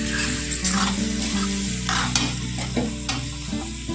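Pasta coated in ketchup is stirred and mixed in a hot pan, giving a steady sizzle under repeated scraping and clattering strokes of the spoon against the pan.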